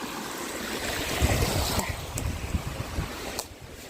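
Clear snowmelt water tumbles down from the mountains as a small outdoor waterfall, a steady close rushing wash with gusts of wind buffeting the microphone.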